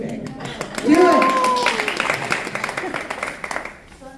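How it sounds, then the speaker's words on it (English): Audience clapping at a 1 Million Cups business presentation in Mishawaka, a steady wash of hand claps that swells after the first second and fades toward the end, with voices talking over it. "everybody clap for her, really big"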